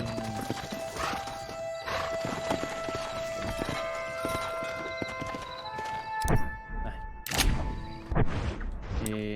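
Horse hooves clip-clop steadily in the Western video game Red Dead Redemption 2, close and rhythmic, with occasional heavier thuds and a whinny, over game ambience.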